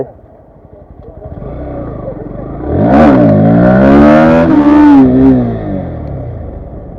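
A motorcycle engine revs hard at night on a ride, its pitch climbing and falling through a loud swell in the middle before settling back to a steadier drone.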